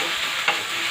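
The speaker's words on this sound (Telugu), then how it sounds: "ఇప్పుడు ఇందులోకి టమాటాలు, పచ్చిమిర్చి వేసి కలపాలి." Tomatoes and green chillies being stirred in a hot pan, a steady soft sizzle and scraping close up with one brief louder stir in the middle, no voices.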